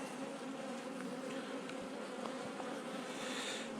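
Italian honey bee colony droning steadily at the hive, a dense, continuous buzz of many bees close by, holding an even level throughout with no talking.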